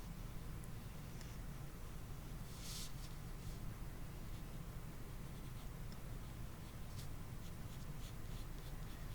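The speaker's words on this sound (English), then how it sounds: "Now I'm going to go ahead and do the tops of my lights and draw my lights in." A pen scratches across paper while drawing colored lights, a soft continuous scribbling close up over a faint steady hiss and hum.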